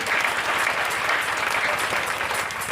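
A church congregation at an evening preaching service applauding loudly, dense continuous clapping from many hands throughout, with faint voices mixed in.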